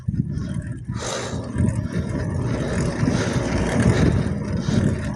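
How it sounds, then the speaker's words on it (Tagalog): Traffic rolls by on a bypass road at Muzon, with cars and trucks passing in a continuous, rumbling wash of engines and tire noise that swells and eases as vehicles go by, with no talking. "mga tunog ng sasakyan,"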